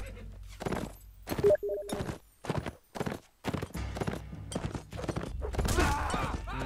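Horse hooves clip-clop in a medieval war video game set in the Hundred Years War, a fairly loud run of irregular hoof strikes that grows denser and more continuous toward the end, with no talk over it.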